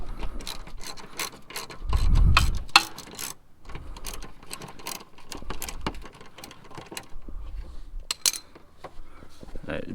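A hand ratchet loosens a 10 mm bolt in the wheel well of a Lexus RC F, giving rapid bursts of close, sharp clicking with short pauses between strokes and a dull knock near the start.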